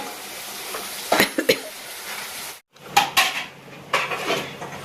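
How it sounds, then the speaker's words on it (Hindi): Metal dishes, pots and pans are being scrubbed and washed by hand in a home kitchen, with sharp clanks and clatters arriving in a few uneven bursts, close by and without any talk. "उधर मम्मी बर्तन मांज रही है"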